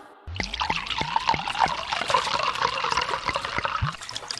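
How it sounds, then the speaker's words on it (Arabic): Water pours and trickles in a steady stream for about four seconds, splashing with small dribbling drops, as it is used to rinse a sore eye. "انا هغسلها لك بالميه"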